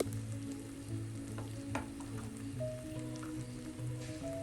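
Chili powder and coriander powder frying in oil for a black pomfret fish curry, a close continuous sizzle with faint stirring and small popping drips.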